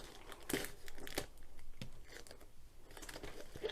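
Crinkly crunching and snipping of scissors working through cardboard packaging, with irregular bursts of rustle and cutting close by.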